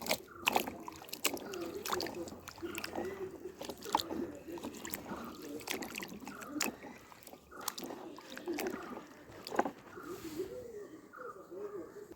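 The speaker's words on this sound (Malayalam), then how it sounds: "ഇത്രയും വെള്ളത്തിലിട്ട് നല്ല വൃത്തിയായിട്ട് കഴുകി അതിൻ്റെ നാരൊക്കെ എടുത്ത് കളഞ്ഞ്" Fresh turmeric roots are swished and scrubbed in water, with repeated sloshing and rubbing splashes close by and occasional faint voices.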